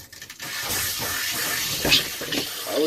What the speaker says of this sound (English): So this is getting Freon or antifreeze through the shower lines, the shower hose, and the trap.